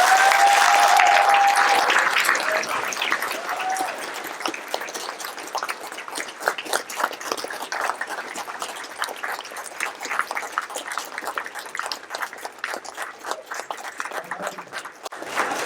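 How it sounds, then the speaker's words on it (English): Audience at a liberty summit's Second Amendment panel applauds the speakers: loud dense clapping at first that gradually thins and fades to a lighter scattering of claps. "Let's give them a warm round of applause."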